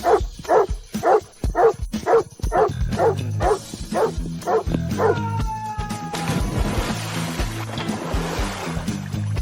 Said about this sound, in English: Call off your dog!